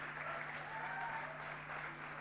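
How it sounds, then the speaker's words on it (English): A conference audience at a golden jubilee celebration applauds dignitaries on stage, a soft, steady wash of many hands clapping heard at a distance, faint and continuous throughout the short stretch. "can we have a round of applause for all the dignitaries on stage?"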